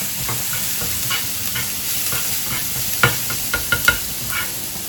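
Onions sautéing in a pan for Philly cheesesteak, a steady broadband sizzle close by with scattered clicks of stirring and a few sharper scrapes near the end, no voices.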